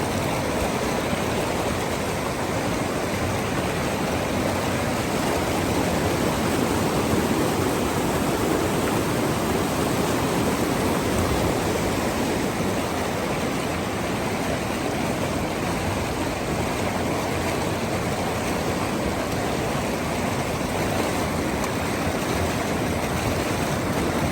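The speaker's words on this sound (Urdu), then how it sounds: "تمام تر توجہ پانی کے چلنے کی آواز پر رکھ دیجئے" Flowing water runs in a steady, dense rush that stays even and unbroken throughout, with no voices over it.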